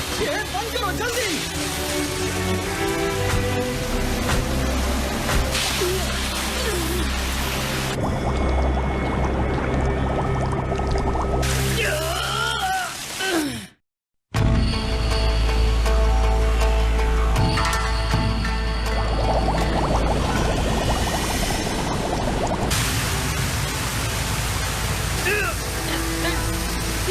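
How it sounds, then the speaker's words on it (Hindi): Anime sound effect of water rushing into a ship: a loud, continuous roaring pour, briefly cut to silence midway, with voices speaking over it at times. "पानी अंदर आ रहा है।"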